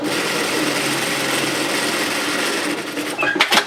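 A sewing machine runs steadily, stitching down the pockets of a fabric loyalty card wallet, a continuous close whirring drone that stutters and ends in a few louder knocks near the finish.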